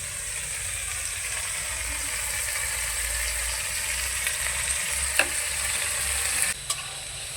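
Spice masala with chopped tomato and salt sizzles steadily in a pan, a continuous close frying hiss with occasional stirring scrapes and a couple of sharp clinks near the end.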